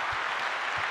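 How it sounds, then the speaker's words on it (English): Audience applause for a guest on a real-estate safety show, a steady wash of clapping filling a brief moment without talk. "round of applause for you."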